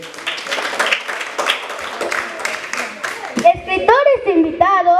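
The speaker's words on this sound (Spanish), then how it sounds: "fuerte aplausos para el niño Iker" Audience at a school literary homage applauding someone narrator, a few seconds of scattered clapping in a hall, followed by a voice beginning to speak as the clapping fades.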